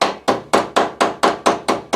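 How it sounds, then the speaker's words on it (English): A hammer strikes a tack on a 1972 MG Midget during bodywork: eight sharp, loud metallic blows in an even, steady rhythm, close up with no voices. "we can hammer that up, see if we can get a"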